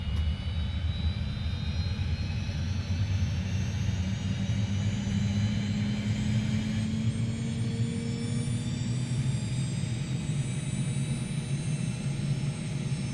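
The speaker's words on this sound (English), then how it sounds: "We hear the engine spool up." A Gazelle helicopter's turbine engine spools up at startup, a loud, steady close roar with a rising whine and a slowly climbing low tone held for thirteen seconds and no voices.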